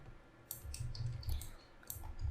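Computer mouse buttons give sharp, close, light clicks in quick pairs and singles while an edge loop is selected in 3D modelling software, set against faint background hiss.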